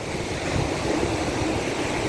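Rough, choppy surf churns on the Gulf in a steady broadband roar, with wind buffeting the microphone and no voices.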